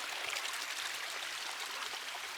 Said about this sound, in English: Oh, it's moving water.